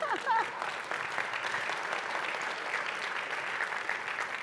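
Audience at an ASEAN 2016 conference event applauding steadily, a dense, even wash of clapping from a large crowd that carries on throughout, with a voice briefly rising over it at the start.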